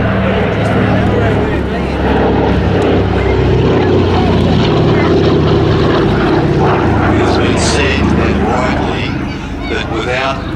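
A C-47 Dakota's twin propeller engines drone loudly and continuously as it flies past at an air festival, a deep, steady roar with a throbbing low hum, while a voice talks over it.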